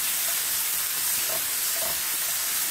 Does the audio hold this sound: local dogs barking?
no